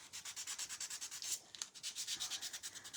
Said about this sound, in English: Just a little bit of sanding here.